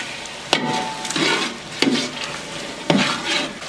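Chicken korma cooking in a pot as a kilo of tomatoes is added: three sharp metallic clanks of a spoon against the pot, each followed by a wet stirring sizzle, close and moderately loud.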